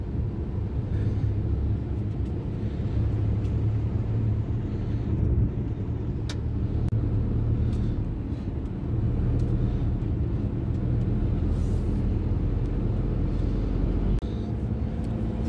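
A Maruti Suzuki Alto 800 BS6 car driving and accelerating, with a steady droning engine rumble and road noise heard from inside the cabin, continuous and fairly loud with no talking.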